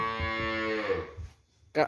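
A bull calf in a cattle pen gives one drawn-out, close moo that tapers off, followed by a short, sharp second call at the end.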